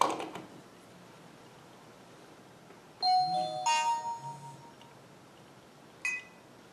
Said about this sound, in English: The camera will emit a chime to let you know that it is properly connected.